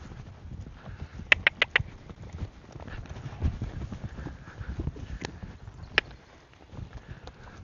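A horse's hooves clip-clop on the ground during a groundwork session as the horse is asked to canter, an uneven rhythm of moderate-distance thuds with a few sharper clicks and some ambient rustle.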